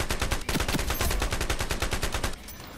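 Rapid automatic gunfire in the online shooter IronSight rattles in one long, loud burst of about twenty shots, then cuts off abruptly.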